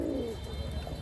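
Pakistani pigeons coo up close, one soft rolling coo at the start over a low, steady background murmur.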